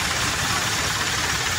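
A Hyundai Starex engine runs after a top overhaul, idling as a steady, close mechanical rumble with a slight knocking texture throughout the short stretch.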